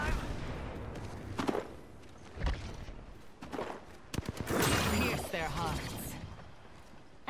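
Gunfire in the shooter game Apex Legends, scattered sharp shots and a short rapid burst mixed with game effects, at moderate volume beneath a talking player.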